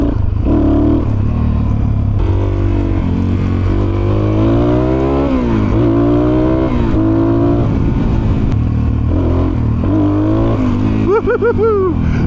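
A Suzuki DRZ400SM supermoto motorcycle with an aftermarket exhaust is revved repeatedly up and down, loud and close, its single-cylinder note rising and falling throughout.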